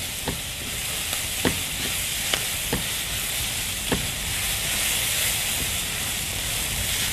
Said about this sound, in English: Nothing smells better than frying onions.